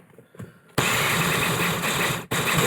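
A kitchen blender whirs into life to blend a fermented chilli mash, running loud and steady with a brief stop before starting again.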